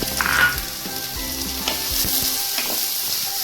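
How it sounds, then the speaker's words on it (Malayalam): Chopped large onions sizzling and frying in a pan for masala pasta, a steady close crackling hiss with occasional stirring scrapes, no talk. "രണ്ട് വലിയ സവാള ചെറുതായിട്ട് അരിഞ്ഞത് ചേർത്ത് കൊടുക്കും"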